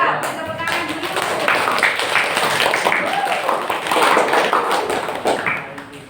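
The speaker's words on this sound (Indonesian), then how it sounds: "Tepuk tangan dulu." Students in a classroom give a group of presenters a round of clapping, dense and fairly close, carrying on steadily for several seconds beneath a few voices.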